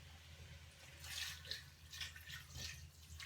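Water pours into a soup pot of vegan root vegetable soup on the stove, a soft splashing rush that swells and eases in a few close bursts, with no talking.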